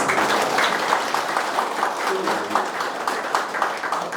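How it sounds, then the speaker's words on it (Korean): Applause at a town-hall talk session hosted by a mayor in Songgwang-myeon and Oeseo-myeon, dense clapping throughout with a voice speaking over it. "박수 한번 쳐요"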